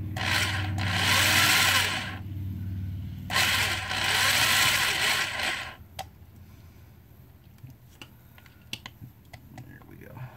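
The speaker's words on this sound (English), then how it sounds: "I gotta get a new drill." An electric drill whirs in two sustained bursts into a model car, then stops, followed by scattered light clicks and taps.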